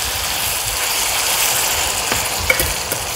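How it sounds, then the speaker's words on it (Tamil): Tomato and garlic sauté in a pan for a chutney, giving a steady, loud sizzle with a couple of faint clinks from stirring near the end and no talking. "தக்காளி பூண்டெல்லாம் சேர்ந்து நல்லா வதங்கிருச்சு"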